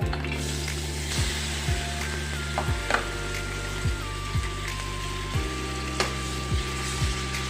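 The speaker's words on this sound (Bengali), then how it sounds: "পেঁয়াজটা ভালোভাবে একটু কষিয়ে নেব" Chopped green chili and onion paste frying in hot white oil in a wok, a steady close sizzle with periodic scraping stirs of the spatula and no voices.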